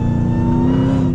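A 2020 Dodge Charger Hellcat Widebody, a 1,000-horsepower muscle car, roars under throttle on a curvy road with a loud, steady, close engine drone and no break, short and alone.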